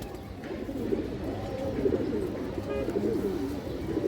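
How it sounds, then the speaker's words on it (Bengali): Mated pairs of pigeons coo steadily close by, several birds' throaty rolling calls overlapping without pause over low background noise. "এগুলো পাল্লা করা কবুতর দর্শক।"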